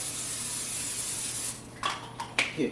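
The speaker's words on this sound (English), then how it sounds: "I'm going to spray my pan" A steady hissing spray of cooking oil lasts about a second and a half, followed by a few clattering kitchen sounds.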